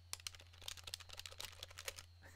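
Rapid clicking of a computer keyboard being typed on, a dense run of sharp keystrokes close by over a steady low electrical hum, with no talk.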